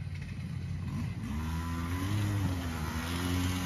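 An E-ton Viper 90, a Chinese-made 90cc youth ATV with a CVT transmission, runs with a steady, moderately close engine drone whose pitch rises slightly for a moment.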